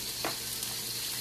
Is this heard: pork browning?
yes